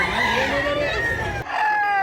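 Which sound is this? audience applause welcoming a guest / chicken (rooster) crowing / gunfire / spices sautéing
chicken (rooster) crowing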